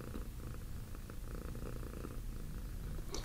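A cat purrs close and steady, a continuous low rumbling drone that stays even throughout, with a faint click near the end.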